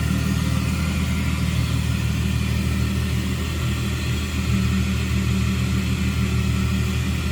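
A 1999 Plymouth Prowler's 3.5-liter V6 idling steadily, a close, even low rumble that holds constant throughout with no talking.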